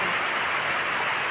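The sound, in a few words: heavy rain in Korangi, Karachi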